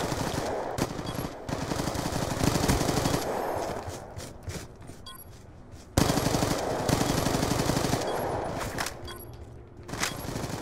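Rapid automatic gunfire from the Black Ops II video game comes in two long, loud bursts separated by a brief lull, with scattered shots near the end.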